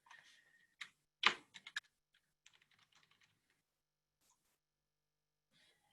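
Quiet, close typing on a computer keyboard, a few scattered clicks and one brief flurry of keystrokes, then near silence with only faint taps.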